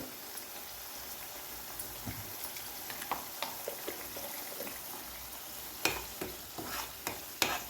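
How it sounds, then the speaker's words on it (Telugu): Green chillies and ginger garlic paste frying in oil, with a steady soft sizzle and scattered spatula scrapes and pops growing sharper toward the end, close and quiet, with no voices. "ఇవన్నీ పచ్చివాసన పోయేంత వరకు వేయించుకోవాలి"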